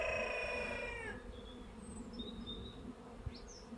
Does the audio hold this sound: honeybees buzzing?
yes